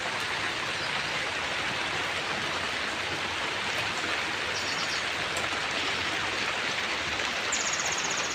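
Heavy rain falls outdoors in a steady, loud, unbroken wash of noise that keeps the same level throughout, with no voices.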